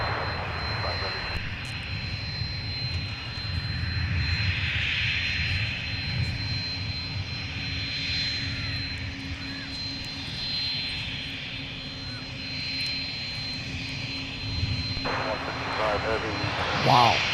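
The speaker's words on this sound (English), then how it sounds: "It's about the longest A330 float that I've ever seen." An Airbus A330 heavy jet floats low over the runway on landing at Minneapolis–St. Paul airport, its broad engine roar steady and fairly distant throughout, with radio chatter from air traffic control heard over it.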